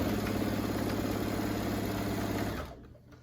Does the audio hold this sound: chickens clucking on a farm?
no